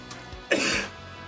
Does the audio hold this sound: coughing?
yes